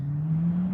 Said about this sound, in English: Those guys really have their Jeep stuck. I mean, they are rolling it back and forth and back and forth.